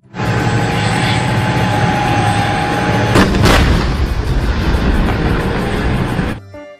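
Continuous loud mechanical roar with a couple of sharp bangs near the middle, like toy gunfire and rumbling effects, cutting off abruptly at the end.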